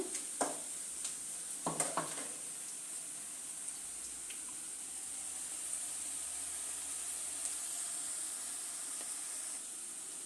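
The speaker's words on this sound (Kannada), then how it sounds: "ಈರುಳ್ಳಿ ಚೆನ್ನಾಗಿ ಫ್ರೈ ಆಗಿದೆ" Onions fry in a pan for broken-rice vegetable upma, giving a faint, steady sizzle with a few scraping clinks of stirring near the start.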